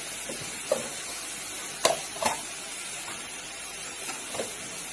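Garlic paste frying in oil with fried onions, a low steady sizzle with a few soft stirring knocks and scrapes spread across the stretch, fairly quiet and close.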